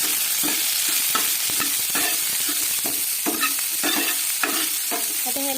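Onion and tomato frying in hot oil with cumin and mustard seeds, stirred with a spoon: a steady close sizzle under rhythmic scraping strokes against the pan, loud and continuous with no voices.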